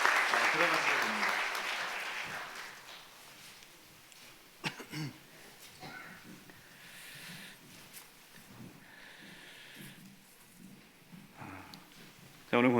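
In a church sanctuary at a retirement service, congregation applause for a retiring deaconess opens loudly and fades within a few seconds, followed by quieter room sounds and scattered murmurs.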